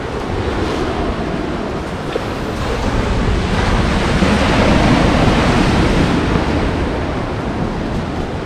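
Loud Pacific surf at Mystic Beach on Vancouver Island roars continuously, waves swelling and crashing on the beach with a broad rush of water and some wind buffeting the microphone.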